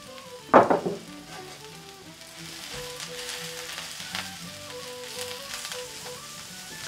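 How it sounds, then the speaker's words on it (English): Asparagus and onions sautéing in a pan, a sharp splash-sizzle as they drop in, then a quiet, steady frying crackle with faint stirring beneath soft tonal background music. "we're going to put in our asparagus and our onions. We'll saute that for about 5 minutes"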